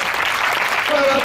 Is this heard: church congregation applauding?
yes